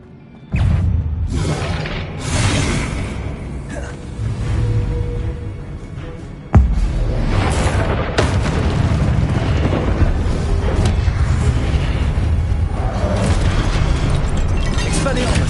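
In Hogwarts Legacy, the Accio spell drags heavy stone statues, producing loud rumbling booms and grinding mechanical noise that surges after a sharp impact and carries on steadily, with a voice speaking over it.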